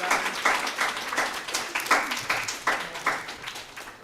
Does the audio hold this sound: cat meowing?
no